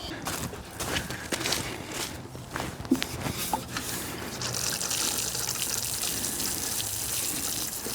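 Water splashes and trickles steadily onto newly planted pea and fava bean beds in an Alaska garden after a hard freeze, with scattered footsteps and rustling early on before a continuous hiss of spraying water.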